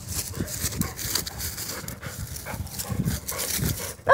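A dog on a walk kicks and scratches up dirt after marking territory, making a series of rough scuffing bursts close by, followed by a short sharp sound at the very end.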